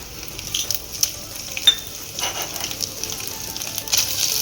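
Mustard seeds, cumin and dried red chillies fry in hot oil, a crackling, spitting sizzle with uneven popping bursts and stirring, close and fairly loud throughout, no talk.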